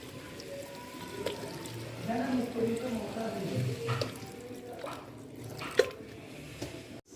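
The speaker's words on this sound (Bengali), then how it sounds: "পরিমাণ মতো জল দিয়ে দেবো।" Water poured into masoor lentils with turmeric, green chili and salt, a quiet trickling pour that swells for a few seconds, then tapers to faint drips.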